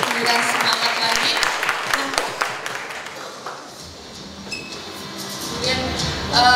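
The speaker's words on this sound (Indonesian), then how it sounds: "kita tepuk tangan lagi teman-teman untuk memberikan semangat lagi" A crowd claps in steady applause for a few seconds, fading out gradually before a brief burst of noise at the end.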